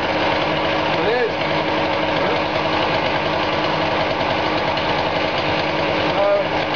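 A cheap Chinese small petrol generator idles steadily and loudly up close, its buzzing drone rising and falling slightly as it hunts.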